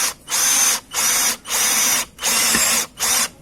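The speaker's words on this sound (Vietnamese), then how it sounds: "là chế độ thứ ba của máy mình bắn vít tôn anh em nhá" Dewalt DCD796 cordless drill driving a roofing screw, five loud whining bursts of roughly half a second each separated by brief pauses, close up with no talking.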